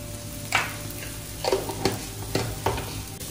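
Spices with half a spoon of garam masala stirred in a hot pan, a low sizzle under several distinct spoon scrapes spaced about half a second apart, close and without speech.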